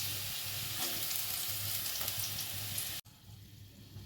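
Capsicum fries in a pan for vegetable noodles with a dense, even sizzle up close. The sound cuts off abruptly about three seconds in and returns quieter.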